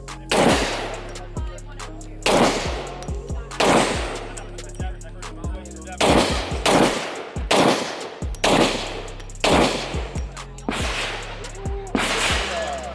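.44 Magnum shots at an outdoor shooting competition, about ten loud, sharp reports in an uneven sequence, each followed by a short echoing tail.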